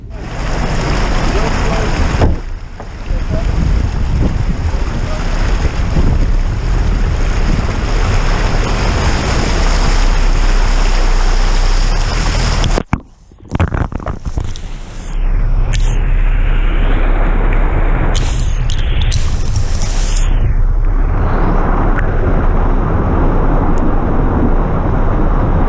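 An Audi A2 car ploughs through deep floodwater with a loud, continuous rushing wash and splash, a brief dropout midway, then churning water with wind noise as it pushes on.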